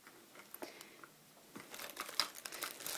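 A pretty Guess makeup pouch being opened and rummaged through, giving soft crinkling and rustling that builds into denser, louder crackles toward the end, heard close and alone.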